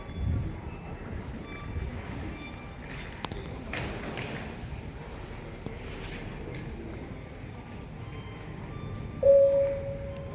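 An Istanbul Metro train rumbles in, a low steady roar building in the underground station, ending with a brief high squeal of brakes.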